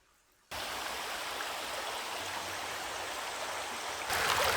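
A babbling brook rushes in a steady, dense wash of flowing water that starts abruptly after a brief silence and swells slightly louder near the end, with no voices.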